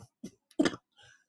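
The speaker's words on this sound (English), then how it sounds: "I apologize for the asthmatic coughing attack" Short, dry coughing and throat-clearing from a person during an asthmatic coughing attack, a few separate rough bursts close to the microphone with brief quiet gaps between them.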